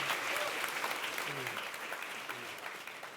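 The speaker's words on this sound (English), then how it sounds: "can we have a birthday round of applause for" A conference audience gives a birthday round of applause, steady dense clapping at moderate distance that holds for a few seconds and slowly thins, with faint voices beneath.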